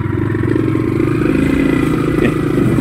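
A motorcycle engine runs and revs steadily while riding, close and loud, its rhythmic mid-pitched putter continuing throughout with slight rises in revs.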